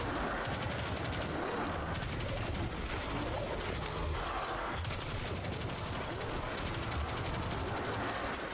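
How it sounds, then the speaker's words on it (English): Rapid, continuous energy-weapon gunfire from the video game Destiny 2, a dense, steady barrage of shots that runs loud throughout without a break. "You really shouldn't shoot me with your energy weapons when I've got this gun."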